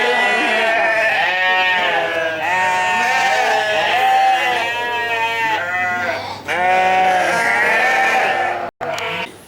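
Goats on an organic goat farm bleat loudly and continuously, several overlapping wavering cries close by, with a brief pause near the end.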